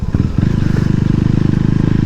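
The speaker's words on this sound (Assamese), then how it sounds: "চাউণ্ডটো KTM RC390 এক্সজষ্ট খুলি থ'লে শুনালোঁ যিটো BS4 মডেল হয়" KTM RC390 motorcycle, a BS4 model with its exhaust removed, idling loud and close with a rapid, raw pulsing thump that catches after a brief stutter and holds steady.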